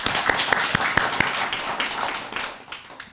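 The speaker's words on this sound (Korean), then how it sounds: "박수 한번 쳐줄까요?" Applause from a small gathering at a Buddhist prayer talk, a few distinct sharp claps at first, then a brief patter of clapping that fades out.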